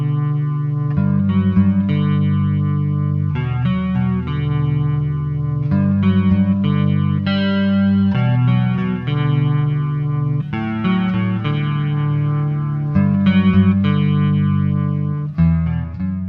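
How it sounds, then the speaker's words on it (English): Electric guitar run through a Boss CE-3 chorus pedal with a touch of reverb, giving a shimmering, warm clean tone; sustained chords ring steadily and loudly for the whole stretch with no talking. "That's what gives it that dreamlike shimmer. For this, I'm using a pedal and I'm using the Boss CE3."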